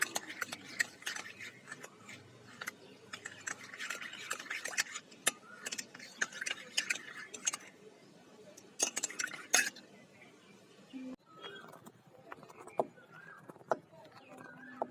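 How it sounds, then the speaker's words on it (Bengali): A spoon scrapes and clinks against a pot while milk mixed with cornflour is stirred for mango pudding, the irregular taps and scrapes coming close and fairly quiet with pauses between strokes. "দিয়ে দেব 2 চামচ কর্নফ্লাওয়ার দিয়ে দেব। ভালো মতো নেড়ে নেব।"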